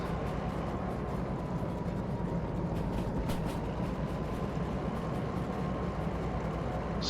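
Steady low rumble of the DH4 diesel-hydraulic locomotive engine in Derail Valley, a continuous droning hum with faint clicks, holding an even level throughout.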